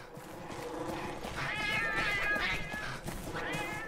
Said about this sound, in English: Get out of the way, you stupid cats!